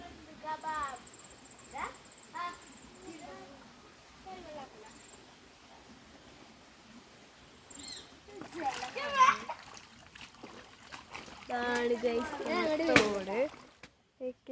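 Splashing water in a small stream, with bursts of splashes growing busier and louder toward the end, while children's voices chatter and call nearby throughout.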